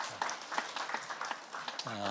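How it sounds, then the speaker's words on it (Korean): Applause from a church congregation during a Sunday worship service, a run of scattered hand claps over a couple of seconds, with a voice starting at the end. "우리 하나님께 영광의 박수 다시 한번 올려드리겠습니다."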